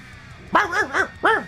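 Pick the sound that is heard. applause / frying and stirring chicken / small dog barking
small dog barking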